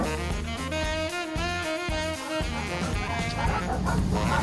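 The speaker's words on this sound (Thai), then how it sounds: "หมาเห่าเลยวะ" A dog barks and yips in a rapid run of sharp, repeated barks, fairly close, with some whimpering tones mixed in and background noise throughout.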